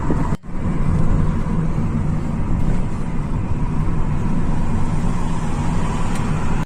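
Steady, loud low rumble of a taxi driving along a road, continuous engine and tyre noise throughout with a brief dropout near the start.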